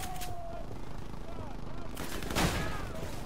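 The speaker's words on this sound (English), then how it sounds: "You gotta love close combat with a shotgun." Shotgun blasts in Call of Duty Modern Warfare Remastered, a few sharp booming shots, the loudest near the end, amid battle noise with voices talking over it.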